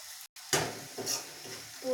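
Onion, ginger and garlic fry together in a pan, making a soft sizzle broken by a few stirring scrapes. A brief silence comes before the frying sound picks up.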